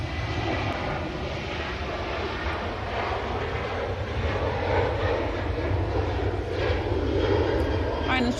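A Hainan Airlines Airbus A330 jet passes overhead, a loud continuous roaring rumble that swells slightly toward the end, with wind and faint voices beneath.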